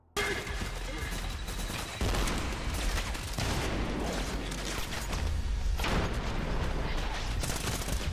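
Gunfire from a shooter video game played on a hard difficulty, dense bursts of shots and impacts filling the whole stretch at steady loudness, with little let-up and a voice faintly underneath.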